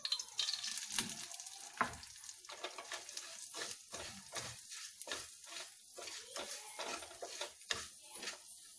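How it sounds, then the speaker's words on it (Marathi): Cumin seeds go into hot oil for homemade Udupi-style rasam masala and sizzle with quick, sharp crackles and pops that come in irregular bursts, fairly close but quiet, with faint stirring clinks. "आता तेल गरम झालं की आपण सर्वप्रथम जिरे टाकूया."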